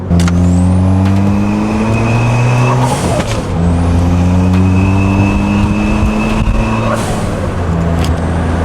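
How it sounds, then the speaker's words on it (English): A turbocharged four-cylinder car engine idles and revs up close on a windy day, exhaust rumbling steadily, with sharp hissing blow-off valve bursts after each rev. "all these noises coming through the exhaust, the blow-off valve, the intake"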